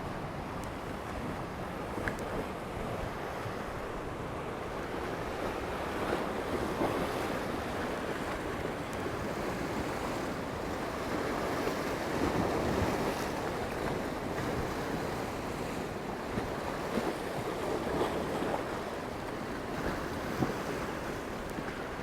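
Choppy sea waves rolling in at the harbour of Port d'Andratx, Mallorca, a steady broadband wash of surf mixed with gusting wind buffeting the microphone, continuous and fairly loud throughout with no voices.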